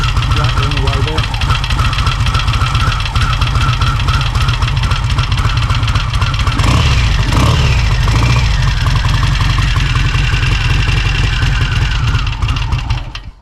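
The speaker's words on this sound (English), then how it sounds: "can just hear the valve clearances rattling away there" A Royal Enfield Meteor Minor motorcycle engine idles loudly and continuously close by, its valve clearances rattling in a fast metallic tick over the steady chug, until the engine cuts out right at the end.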